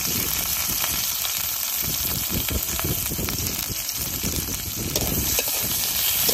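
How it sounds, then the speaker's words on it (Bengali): Vegetables and green chilies frying in a pan, a continuous close sizzle with occasional crackles and stirring scrapes throughout, no talking. "সবকিছু ভালো করে ভেজে নেই।"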